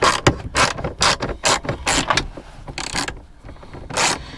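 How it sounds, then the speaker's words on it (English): A hand ratchet clicks through repeated bursts while turning bolts on a 2nd-generation Toyota Tacoma during an infotainment install, loud and close in a steady stop-start rhythm, with no talking. "I got the ratchet here already."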